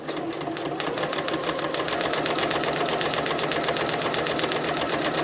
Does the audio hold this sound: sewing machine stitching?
yes